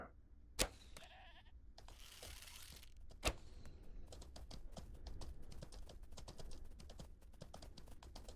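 A goat bleats in the medieval fantasy game Mortal Online 2, with harmonic cries in the first few seconds over a busy, clicking game soundscape and a couple of sharp hits.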